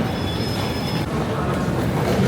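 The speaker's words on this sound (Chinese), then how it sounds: "走了，到这个高铁站了，人还蛮多的。" Busy high-speed rail station with train and rail noise, a steady loud rumble and clatter with a faint high squeal early on, crowded ambience throughout.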